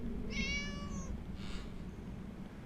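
Cats meowing in the video game Neverwinter Nights 2: one clear, drawn-out meow near the start, then a shorter, fainter mew a moment later, over a low steady background hum.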